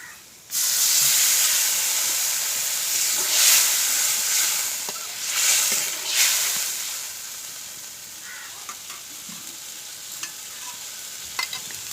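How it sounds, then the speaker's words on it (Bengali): Water hits frying spices and vegetables in a pan while cooking daliya pulao, bursting into a loud, close sizzling hiss that slowly settles, with a few stirring clicks and no talk. "এবার দিয়ে দেবো পরিমাণ মতন জল"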